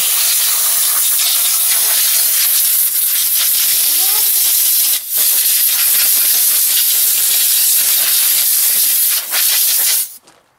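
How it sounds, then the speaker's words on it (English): A regular air compressor blasts a steady, loud hiss of air through a dirty gaming PC to clear out dust, running nearly continuously with a couple of brief breaks before it cuts off at the end. "So I'm just using normal regular compressor."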